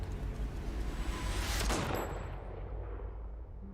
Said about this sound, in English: And then the gunshot.